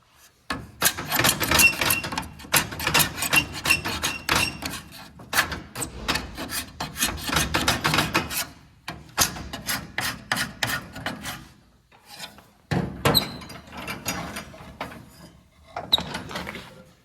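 Glue is scraped off the wooden surface of a nightstand in repeated firm, rasping strokes, loud and close, in bursts separated by short pauses.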